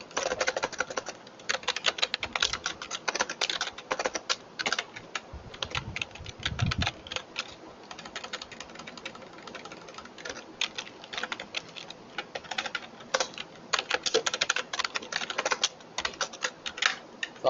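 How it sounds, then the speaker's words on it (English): Rapid, continuous typing on a computer keyboard while writing C++ code, with dense irregular clacks and brief pauses, close and clear throughout with no speech. "Sorry for my typing speed"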